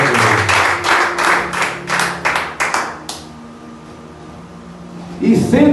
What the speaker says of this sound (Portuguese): Bata uma salva de palmas para Jesus.